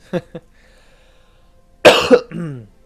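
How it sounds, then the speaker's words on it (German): Two short coughs, then after a pause a harsher burst of coughing with a throaty, voiced tail, close to the listener. "Sorry fürs Husten."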